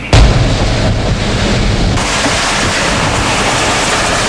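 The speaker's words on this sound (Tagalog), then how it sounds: "May pabugso-bugso pa rin ang buhos ng malakas na ulan dito sa Western Samar" Heavy rain pours down in Western Samar as a thick, loud roaring wash after a sudden gusty onset, steady to the end with no voices.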